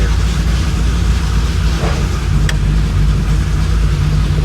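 A 1966 Chevrolet Impala drives along with a loud, steady low rumble and road noise filling the cabin, one sharp tick partway through and no talk.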